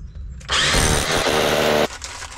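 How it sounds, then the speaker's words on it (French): A power drill fitted with an 8 mm bit bores into an oak board that is being fitted over a concrete lintel, giving one loud, close, steady whine of grinding that lasts about a second and a half, then stops. "je prends une mèche de 8"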